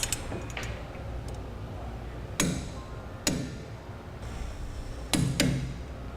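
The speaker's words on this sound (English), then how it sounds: "Now we'll go ahead and torque it down as specified in your instructions." A torque wrench tightening new bolts on a Thule TracRac SR sliding truck bed ladder rack, giving a few sharp isolated metallic clicks spaced seconds apart over a quiet background.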